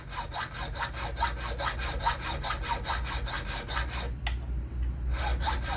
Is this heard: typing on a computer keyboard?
no